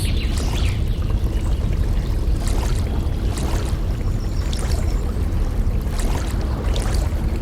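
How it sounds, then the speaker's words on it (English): Rushing river water in a canoe video game, a steady broadband pour and trickle of fast-moving rapids that runs loud and continuous throughout, with no voices. "Look at how fast the water moves over there."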